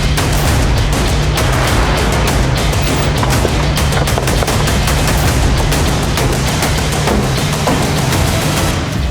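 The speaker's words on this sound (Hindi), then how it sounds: "वो गोली चलने की आवाज थी" Dense, continuous gunfire from a TV crime drama, rapid automatic bursts and shots layered over one another at loud, steady volume for the whole stretch, with no talking.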